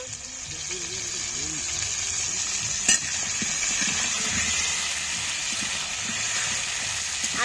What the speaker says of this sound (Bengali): মাছগুলো লাল লাল করে ভেজে নেব